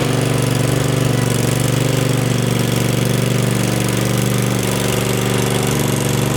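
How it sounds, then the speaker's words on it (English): A neglected lawn mower's small engine runs steadily at close range, a loud, even drone with a rough knocking texture that holds constant throughout, with no voices. "So we gotta get the mower out first, get it kind of tuned up."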